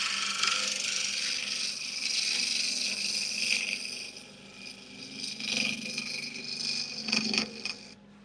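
A bowl gouge held as a scraper against spinning wood on a lathe gives a sustained scraping hiss with a steady motor hum, rising and falling with each pass.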